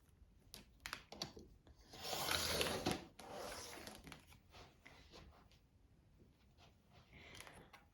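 Quilt fabric edge being trimmed tidy with a cut, heard as one broad rasping slice lasting about a second, framed by light scattered handling taps and rustles nearby.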